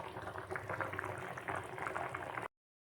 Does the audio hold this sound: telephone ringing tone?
no